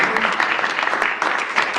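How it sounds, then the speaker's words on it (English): Audience applause at a downtown partners strategic plan meeting, a steady dense clapping that fills the short stretch evenly at close range. "Everybody likes applause."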